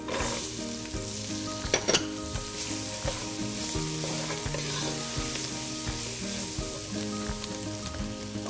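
Onion, celery and other vegetables sizzling in a pan while being stirred, a steady hiss with occasional utensil scrapes and knocks, close but fairly quiet.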